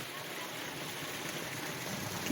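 A waterfall at Karantha Malai rushes in a loud, steady, broadband roar, continuous and unbroken throughout.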